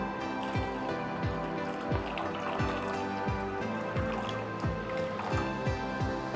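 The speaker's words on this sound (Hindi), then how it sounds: "तो चलिए पानी डालते हैं।" Water pours and splashes steadily into a bowl of peanuts for soaking, a continuous gurgling fill with rhythmic bubbling pulses, close by and without talk.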